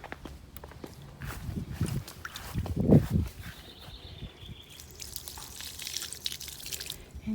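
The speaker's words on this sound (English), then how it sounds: "let's give this one some water." Water poured onto garden plants and sunflowers from a watering source, with a soft splashing burst around the middle and light drips and rustling outdoors, fairly quiet overall.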